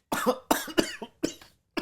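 A burst of several harsh coughs in quick succession, close and fairly loud, with short pauses between them.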